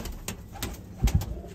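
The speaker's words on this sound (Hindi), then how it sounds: "ये गोल्डन कबूतर है प्योर।" A purebred golden pigeon gives a couple of short, low coos close by, with faint background noise around them.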